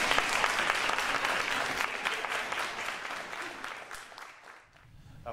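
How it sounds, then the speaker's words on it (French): An audience applauds itself at a Christmas crèche route event in Aubigny, steady dense clapping filling the room and tapering off toward the end. "Alors applaudissez-vous vous-même."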